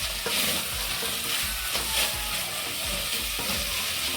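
Onions fry in a pan with a dense, continuous sizzle and soft stirring scrapes, close and steady, with no talking.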